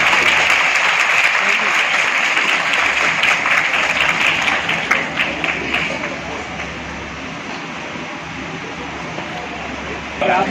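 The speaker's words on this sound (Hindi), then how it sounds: "तालियों के गड़गड़ाहट से कार्यक्रम की शुभारंभ।" Applause fills a hall at the opening of an employees' welfare association meeting, dense and sustained at first, then thinning into scattered claps near the end, with a speaker's voice over it.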